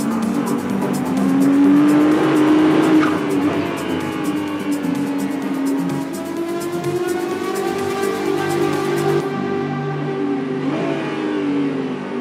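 A Ferrari sports car engine revs and roars steadily, rising and falling in pitch as it accelerates, loud and close with no talking.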